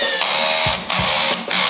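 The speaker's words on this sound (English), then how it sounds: "3, 2, 1, drill!" A Black & Decker battery drill drives a big screw in three short whirring bursts, each high buzzing run cutting off abruptly, loud and close with no talk.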